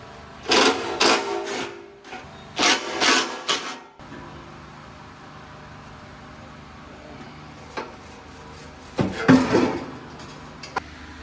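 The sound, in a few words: wrench undoing 13 mm fuel tank strap bolts on a Camaro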